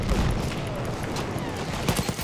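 Battlefield game combat with rapid gunfire bursts and a grenade blast, dense and loud, with a sharper crack and boom near the end over continuous battle noise.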